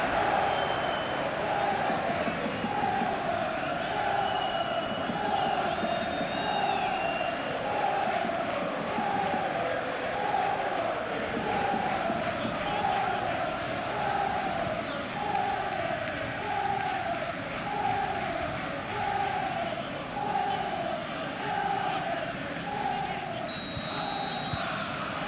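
A stadium crowd at a Liverpool vs Bayer 04 Leverkusen Champions League match chanting in a steady rhythmic pulse, a big roaring mass of voices throughout, with commentators talking over it.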